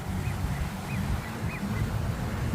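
Ducks call outdoors in a few faint, short honking bursts, roughly every half second, over a steady low rumble of wind and water.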